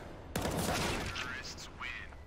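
Gunfire in a professional Counter-Strike: Global Offensive match, a sudden sharp shot followed by a burst of rapid firing and rattling effects, loud and close, with excited commentary over it.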